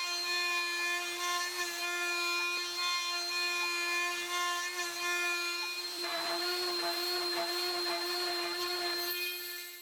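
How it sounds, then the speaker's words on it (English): A LUNYEE 3020 Nova desktop CNC machine carves a pocket in aluminum with a steady, high-pitched spindle whine. Gritty cutting chatter grows rougher and louder in the second half. "First, I carve out the middle pocket, the deeper part minus the text and logo, and in the same operation I cut out the keychain hole with a digging operation."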